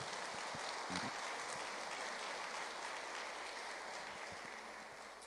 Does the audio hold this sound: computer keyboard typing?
no